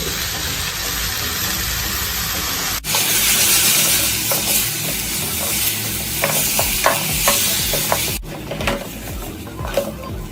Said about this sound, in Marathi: ह्याला व्यवस्थित मिक्स करून घेऊया. सॉस पूर्णपणे कोट झाला पाहिजे नूडल्सला पण आणि व्हेजिटेबल्सला पण.